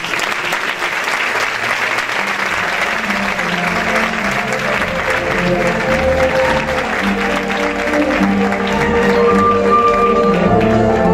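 Loud, sustained applause from a crowd at a tribute ceremony held by a Moors and Christians festival troupe, a thick continuous clapping wash with a low murmur of voices and some music-like tones rising underneath toward the end.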